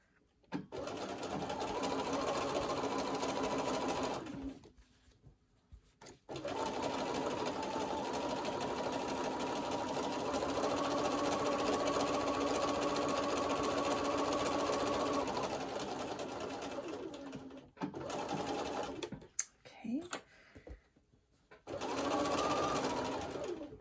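A sewing machine stitches a side seam on a scrappy quilt block of Tilda fabrics, running in several steady bursts. The longest run lasts about ten seconds, broken by brief pauses and a few short stop-start stitches near the end.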